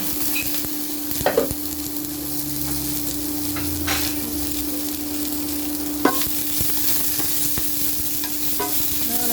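Vegetables sauté in a pan with ginger and garlic, frying in a steady sizzle. A few sharp scrapes and stirring knocks land over the sizzle, and no one speaks.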